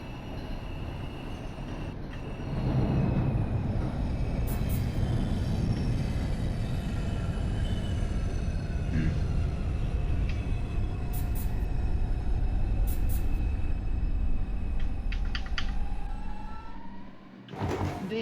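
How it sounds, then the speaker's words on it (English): An R142 subway train in the OpenBVE game runs along the track with a steady, continuous rumble and hum. Occasional clicks and squeals rise over it, and the sound drops out briefly near the end. "This is a Manhattan-bound 5 local train"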